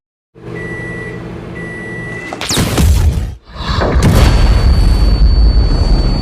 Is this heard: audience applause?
no